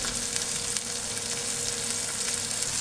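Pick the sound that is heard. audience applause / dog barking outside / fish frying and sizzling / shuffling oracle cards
fish frying and sizzling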